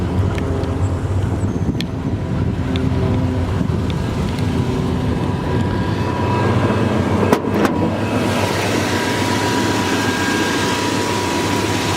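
A 1955 Chevrolet Bel Air with a 350 crate engine, mild cam and headers into dual exhaust idles steadily with a low, even rumble, close and continuous, with a couple of faint clicks and no talk.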